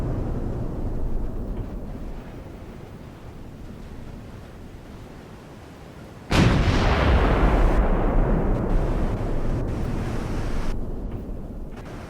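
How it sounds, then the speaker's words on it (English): Battleship centerline turrets fire in the naval warship game Ultimate Admiral: Dreadnoughts, one sudden loud boom that rolls into a long, dense rumble over steady sea and wind noise. "those are the centerline turrets, and they seem to be firing fine"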